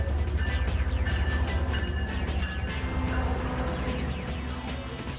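An outbound Stoughton commuter train led by an HSP locomotive rolls past close by with a steady heavy rumble and rhythmic wheel clatter over the rails, slowly fading toward the end.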